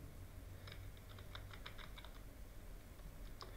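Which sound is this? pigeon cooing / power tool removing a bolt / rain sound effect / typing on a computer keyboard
typing on a computer keyboard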